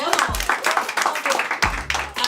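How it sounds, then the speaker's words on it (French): A television studio audience claps for a performer in uneven bursts of hand claps, near and moderately loud, with a voice talking over parts of it. "En tout cas, on l'applaudir bien fort."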